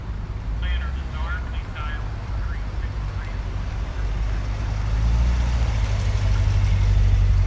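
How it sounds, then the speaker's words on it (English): A Chevrolet Corvette Grand Sport 3LT drives by at a car gathering. Its low engine rumble builds louder toward the end beneath someone talking close by. "here comes another yellow, but here comes a GrandSport."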